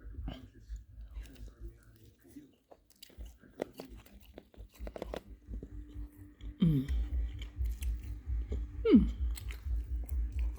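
Someone bites into and chews a McDonald's crispy chicken sandwich up close, with wet chewing and soft crunches, then louder munching and some breathing.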